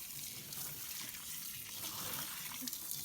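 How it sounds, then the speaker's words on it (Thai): Water sloshes and churns steadily inside a washing machine during a rinse-and-spin cycle with plastic bottles inside, a continuous near wash of liquid with no talk. "อันนี้จะปั่นล้างแล้วเราจะปั่น แห้งแล้วก็จะเปิดให้ดูว่าเป็นยังไง"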